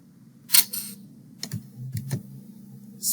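Several scattered keystrokes on a computer keyboard, close and crisp, arriving in small irregular bursts with short pauses between them over a faint steady hum.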